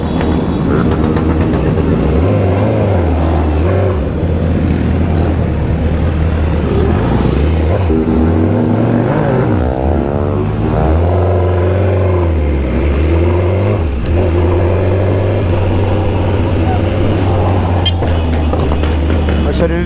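A BMW S1000RR sport motorcycle engine revs and rises in pitch amid steady road noise from a nearby convoy of vehicles, with people talking over it throughout.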